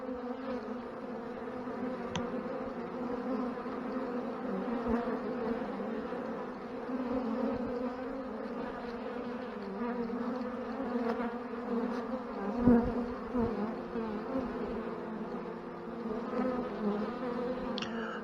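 Honeybees swarm around the landing board of a strong Ohio hive, a dense continuous buzz of many wings close by, steady throughout with occasional louder passes of individual bees.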